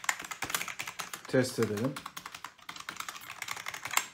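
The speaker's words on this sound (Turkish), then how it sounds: "Q klavye. Mekanik değil. Tuşların basımı biraz sert." Rapid clicking keystrokes on a non-mechanical Q-layout A101 Piranha gaming keyboard with fairly stiff keys, a dense run of taps close by, with a short spoken phrase in the middle.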